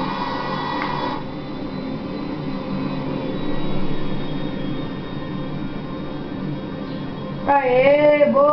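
A jumbo jet's engines roar steadily in GTA V, a sustained broad rumble with a high whine on top, swelling briefly midway; a voice talks over it near the end.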